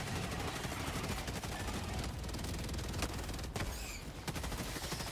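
Rocket pod strike in the game Helldivers 2, heard as a dense, continuous barrage of rapid explosive bursts and gunfire-like cracks filling the whole stretch at steady high loudness, with a couple of sharper impacts near the end.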